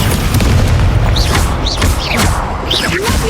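Incendio fire spells fire in quick succession in the Hogwarts Legacy video game, each a short booming burst with a crackling whoosh. Several blasts land over a constant rumble of combat sound.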